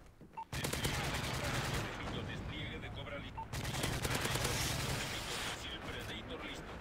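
Rapid bursts of shotgun and automatic gunfire in Call of Duty: Modern Warfare 3, loud and close, in two long sustained volleys separated by a brief pause, with dense overlapping blasts.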